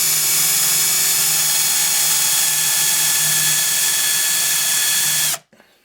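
A titanium-coated HSS step drill bit bores under heavy pressure, its loud, steady power-drill whine running unbroken for over five seconds before cutting off abruptly.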